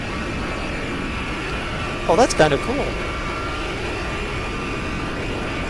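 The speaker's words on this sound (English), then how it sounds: "We're starting up engine 4." Jet engines of a Handley Page Victor bomber spooling up in the X-Plane flight simulator, a steady high whine and hum running throughout, with someone briefly talking over it midway.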